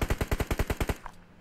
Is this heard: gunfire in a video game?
yes